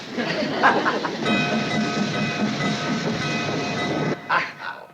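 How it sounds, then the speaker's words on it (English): A passing train in a 1960s rural sitcom setting rumbles steadily and loudly for several seconds with a continuous rolling roar and faint tonal whine, then drops off abruptly near the end, with no talk over it. "They're waiting for the train."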